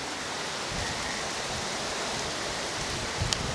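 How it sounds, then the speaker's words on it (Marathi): Heavy monsoon rain in the Konkan countryside, a dense, steady hiss of downpour heard up close, with no voices and only a faint knock near the end. "पाऊस तर अति भयंकर पाऊस आलाय बघा"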